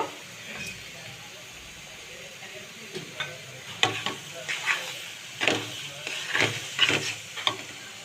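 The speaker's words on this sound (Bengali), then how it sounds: "আস্তে আস্তে এখানে আমি শুকনো মরিচের গুঁড়ো দিয়ে দিব আস্তে আস্তে আমি নাড়তে থাকবো" Olive pickle with dried chili powder being stirred in hot oil in a pan: soft sizzling under scattered scraping and clinking strokes of the spoon, growing busier in the second half.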